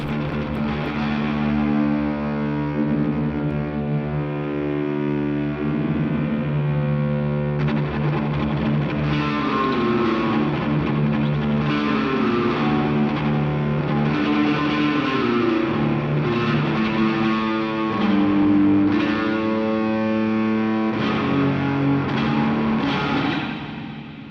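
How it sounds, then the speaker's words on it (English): A distorted electric guitar through an Old Blood Noise Beam Splitter plays chords and notes, each followed by rapid, fluttering echo repeats that give a springy, rattling reverb tail. "Now we can hear it's kind of a rapid fire, almost like a spring reverb."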